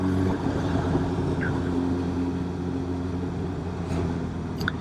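Honda CB1000R motorcycle with an Akrapovic slip-on exhaust, heard on the move: a steady low engine drone mixed with wind rumble, fairly continuous and even throughout.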